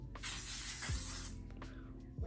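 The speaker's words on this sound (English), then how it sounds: "I think the cool thing about this spray is although it locks it in, I still see that radiance within." Makeup setting spray hisses out in one long, loud burst onto a face, then stops, with faint handling noises afterward and no talking.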